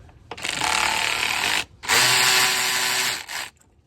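A power tool whirs in two sustained bursts, loosening bolts during engine-bay work on a 2010s Ford Mustang (S197) with overheating trouble; close, loud and mechanical, with a short gap between the runs and no talking.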